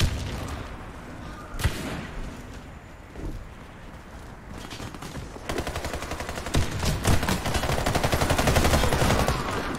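Video-game gunfire in a ranked bomb-defusal round, with scattered single shots early on giving way to dense rapid automatic bursts that build louder toward the end, heard over game ambience.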